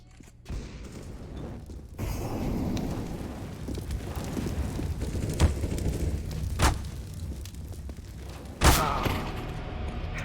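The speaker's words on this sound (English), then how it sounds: "Throwing flashbang." A flashbang grenade goes off in a video game amid a rumbling firefight, with several sharp bursts, the loudest coming near the end.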